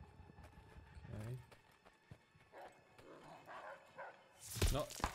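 Dogs in Call of Duty: Vanguard set in Stalingrad, a few distant barks and scuffling movement amid game effects, with someone speaking over them.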